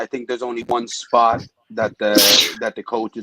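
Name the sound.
sneeze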